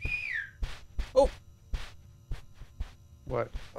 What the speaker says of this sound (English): Was that you whistling?